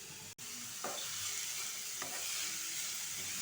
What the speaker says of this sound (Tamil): இப்போ அதே நெய்யில் நம்ம பீட்ரூட்டை போட்டு நல்லா ஃப்ரை பண்ணிடலாம்.